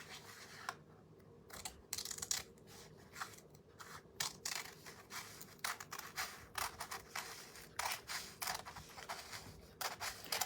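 Scissors trimming old book paper for decoupage, a quiet run of close snips and paper rustles in an uneven rhythm, with no voices.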